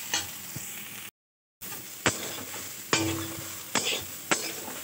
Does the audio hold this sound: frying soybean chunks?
yes